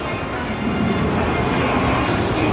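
A train runs with a steady, dense rumble and rattle of wheels and carriages heard from inside, constant and fairly loud with no clear pauses.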